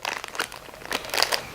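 A plastic ziplock bag crinkles in short, irregular bursts as clear ice pieces are packed into it, close and moderately loud with no talking.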